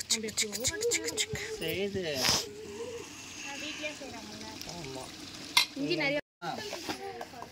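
Chicken simmers and is stirred in a pot for a family biryani, a steady sizzle with spoon scrapes beneath lively household chatter and several voices talking throughout.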